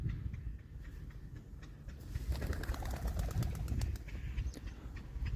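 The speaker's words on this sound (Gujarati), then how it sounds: "કબૂતર પાણી પીવા આવી ગયું." A pigeon coos softly as it comes to drink water on a farm, low repeated calls over quiet background hiss.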